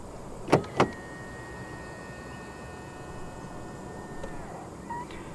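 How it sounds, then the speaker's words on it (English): A 2020 Volkswagen Passat 2.0 TSI locks after a touch on the keyless door handle: two quick sharp clunks of the locks, then a long quiet electric whir as the windows or mirrors run, all under a faint outdoor hiss. "To lock the car, press the indentation on any of the 4 door handles."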